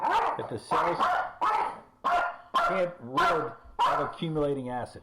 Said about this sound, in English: Apologize for the dogs being childish here.